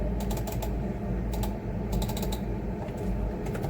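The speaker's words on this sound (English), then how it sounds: "So let's type" Code being typed on a computer keyboard: quick clusters of crisp key clicks come in short bursts with small pauses, close and fairly quiet, with no talking.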